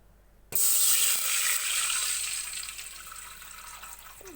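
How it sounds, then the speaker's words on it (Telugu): Water gushes steadily into a pot for payasam, starting abruptly after a short quiet moment and continuing as a bright, splashing stream that gradually softens. "వాటర్ పోసుకోవాలి"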